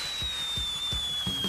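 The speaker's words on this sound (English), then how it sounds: "What's that? A rocket flare." A rocket flare fires in an animated children's rescue-train show: a high, steady whistling tone glides slowly downward over a string of soft, low thumps repeating roughly every third of a second.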